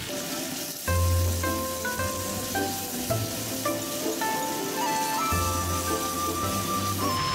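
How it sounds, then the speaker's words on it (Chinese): Pork ribs stir-fry in a hot oiled wok, a continuous close sizzle broken by a few turning scrapes and low rumbles, with no voices present. "把排骨倒入锅中，翻炒均匀。"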